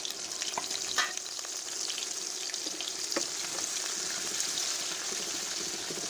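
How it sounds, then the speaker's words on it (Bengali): Chopped onion fries in hot oil in a wok, a constant loud sizzle with occasional stirring scrapes and crackles throughout. "হালকা বাদামি করে পেঁয়াজটা ভেজে নেব"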